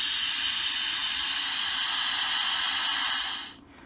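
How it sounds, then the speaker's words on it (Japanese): Sustained bright fizzing hiss of carbonation from a Kamen Rider Build DX Rabbit Tank Sparkling transformation toy, steady and close for several seconds before cutting off abruptly, with no talking. "はい、これが、炭酸音ですね。"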